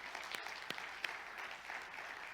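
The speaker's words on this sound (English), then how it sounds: "we just want to give you a round of applause right now" A church congregation applauds during a Sunday service, with soft, distant, steady clapping and a few sharper individual claps standing out.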